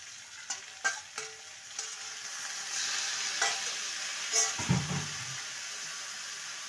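Dhaba-style okra frying on a high gas flame crackles steadily while a spoon stirs and scrapes the pan in a few sharp bursts, with a splashy sizzle swelling near the end.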